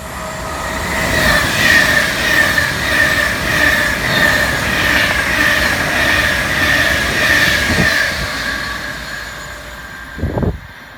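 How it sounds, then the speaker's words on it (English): A Virgin Pendolino high-speed electric train rushes past close by at Longport station, a loud sustained roar with rhythmic wheel clatter and a tonal whine, fading near the end. "this is the Virgin Pendolino"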